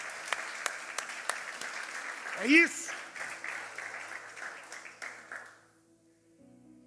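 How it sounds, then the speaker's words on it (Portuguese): Audience applause in a church service, a steady wash of many hands clapping at moderate distance, with a brief spoken word over it before the clapping fades out. "Sim, aplausos."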